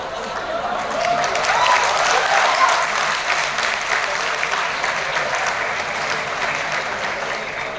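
Lecture audience clapping in a hall, a full round of applause that swells early, then holds steady and fades slightly, dense and fairly close.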